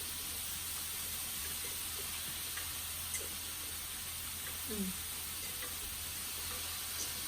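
Pork and cheese sausage grilling on a Thai mookata grill, a steady hiss of sizzling fat with faint ticks and small pops throughout, no talking.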